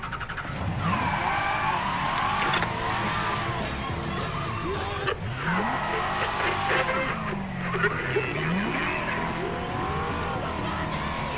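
A car in Mafia 3 drives hard, with a loud, continuous engine roar, rising and falling revs and repeated tire squeals as it skids through turns.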